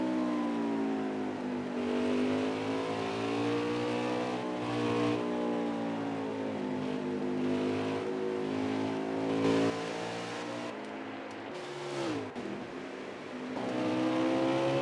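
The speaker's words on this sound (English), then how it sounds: "that engine is revved in fourth gear as he uses the bus stop" Race car engine at Watkins Glen held at high revs in fourth gear through the bus stop chicane, a loud steady rasping drone that rises and falls in pitch, briefly dips, then climbs again.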